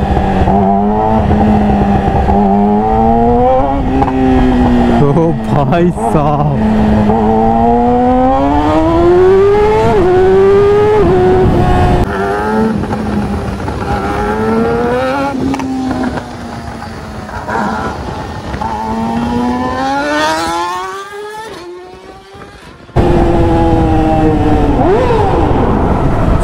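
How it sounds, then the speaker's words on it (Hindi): A modified Yamaha R15 sport motorcycle engine revs hard with repeated throttle blips, its pitch climbing and falling in long sweeps toward a high-rpm scream, loud and close, with a brief drop near the end before it roars back; someone speaks briefly. "चलो थ्रॉटल लिया जाए"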